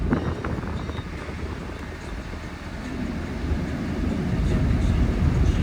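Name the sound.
truck air conditioning blowing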